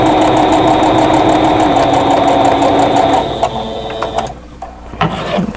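A sewing machine stitching a quilt block runs in a rapid, steady mechanical whir with fast rhythmic needle ticks for about three seconds, then slows and stops, leaving soft handling clicks and rustles.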